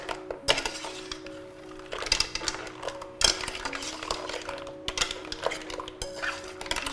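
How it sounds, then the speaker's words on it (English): A spoon stirs mussels with wine, gin, salt and pepper in a wide cooking pot, making close, repeated clinks and scrapes of metal against the pot in an uneven rhythm, with no talk. "Now we'll mix them once again, if the liquid is in there, and season with salt and pepper."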